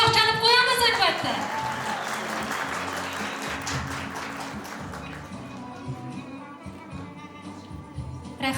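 Audience applause at a wedding celebration, steady dense clapping from a crowd lasting throughout, with a voice speaking briefly at the start over it.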